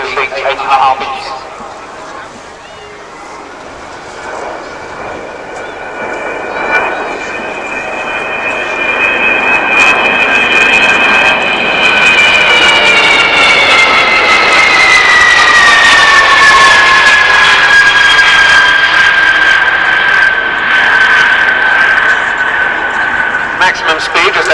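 Large military transport jet with a 222-foot wingspan flying a display at the RAF Mildenhall Air Fete 1994: loud whining turbine tones swell and slide down in pitch as it passes, building to a sustained roar, with a commentator talking throughout.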